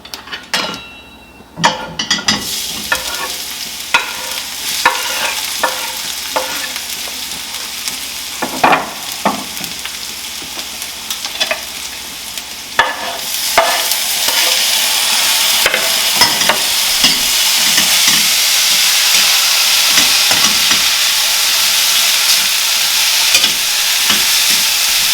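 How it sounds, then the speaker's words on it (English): Garlic, ginger and chilies frying in olive oil in a pan, a loud steady sizzle that swells over time, broken by scraping stirs and clinks of a utensil, with no talking. "And I'm going to put the garlic in and ginger and chilies."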